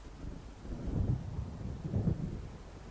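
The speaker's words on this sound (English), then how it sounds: "It seems there's a storm coming." A thunderstorm approaching in the video game Alan Wake, with deep rolling thunder swelling twice over a low background of wind and rain, distant and fairly quiet.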